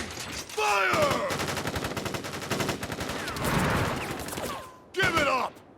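A volley of rapid gunfire from troops in the video game Crisis Core Final Fantasy VII, continuous and loud through the middle, with shouted voices at the start and end.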